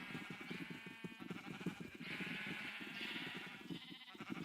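Several Minecraft sheep bleat in quick, overlapping wavering calls, a faint, constant chorus of game animal noise.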